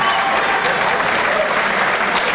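A crowd at a kickboxing bout cheers for local fighter Rico Tatangelo, a steady, loud roar of applause and voices that fills the arena without a break.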